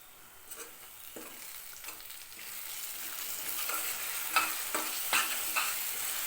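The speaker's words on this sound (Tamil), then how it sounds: "அந்த மசாலா வாசனை எல்லாம் போகிற வரைக்கும் நல்லா கொதிக்கட்டும்" Gentle bubbling and soft sizzling from masala simmering in a covered pan, with occasional small pops, no voices.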